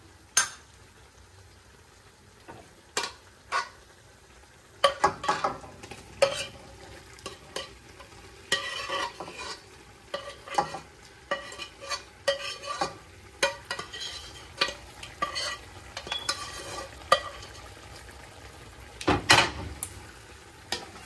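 Vegetables added to shrimp cooking in butter with garlic and lime, stirred in a pan: a low sizzle under repeated spoon scrapes and clanks against the pan in irregular bursts, close up and without speech.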